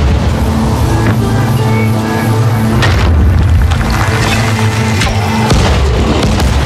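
A grenade blast in the zombie game Dying Light: The Following, with loud booming impacts and crackling debris over steady low game rumble during a fight against a huge Demolisher.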